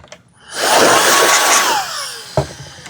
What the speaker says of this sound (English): we're going to just kind of wipe it, and we're going to blow it out